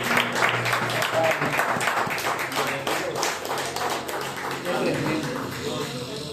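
Church congregation gives a round of applause during a sermon, a thick, steady wash of clapping with scattered taps, mixed with murmuring voices and a speaking voice underneath.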